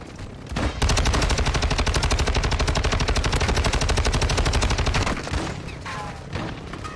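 Sustained automatic gunfire from the Call of Duty DMZ video game, a loud, rapid, steady stream of shots lasting several seconds before breaking off into scattered quieter noise.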